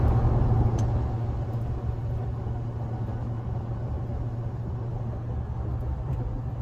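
A car cruising along a quiet highway in northern New Mexico gives a steady low engine and road-tire rumble with a constant droning hum, even and unbroken, with no voices.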